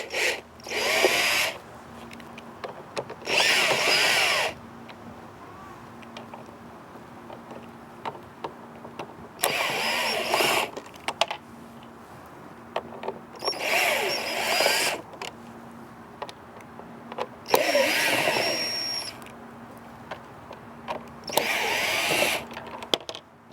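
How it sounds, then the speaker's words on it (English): A power driver with a T15 bit backs out screws from the rear of a Dodge instrument cluster, about six short whirring bursts with small clicks and handling noises between them, close by. "you'll need a T15 bit to take about 12 screws out of the back of the cluster to get the lens off"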